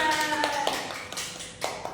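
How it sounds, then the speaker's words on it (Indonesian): Students clap their hands in a classroom lesson, a thin, uneven patter of scattered claps and taps at moderate level, with a brief tonal ring at the start. "Tepuk tangan semuanya."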